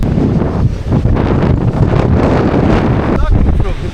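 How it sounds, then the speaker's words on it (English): Strong wind buffets the microphone on a hillside near Fort Augustus along the Great Glen Way in Scotland, a loud, continuous roar with rustling gusts. A voice speaks briefly underneath. "Very windy."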